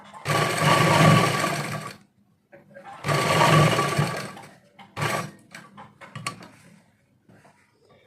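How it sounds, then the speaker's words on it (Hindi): Sewing machine stitching the joint of a trouser's elastic waistband, running in two long steady bursts of about two seconds each, close and loud, followed by short stop-start runs of stitching. "यहाँ पर भी हमें इसी तरह से सिलाई लगानी है।"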